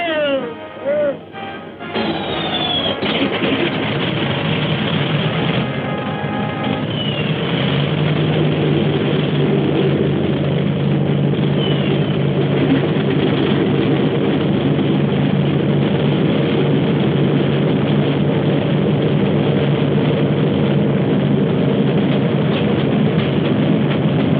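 WWII bomber propeller engines start up after a short mechanical whine, then settle into a dense, steady multi-engine drone that stays loud and constant throughout, with narrowband, old-recording tone.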